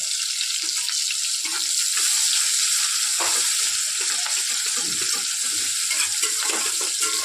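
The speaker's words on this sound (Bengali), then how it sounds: "পেঁয়াজটা একটু ভাজা হোক, তারপরে আমি ওই মশলাটা দেবো।" Chopped and paste onions fry in a pan for mutton biryani, giving a steady, loud sizzle throughout with occasional stirring scrapes and no talk.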